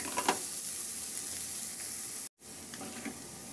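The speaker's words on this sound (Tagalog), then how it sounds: "Maglagay na rin ako ng mantika sa kawali at igisa ko yung bawang." Garlic sautés in oil in a pan, a close, steady crackling sizzle with a few stirring clicks, briefly cut off by a short silent gap before the frying resumes.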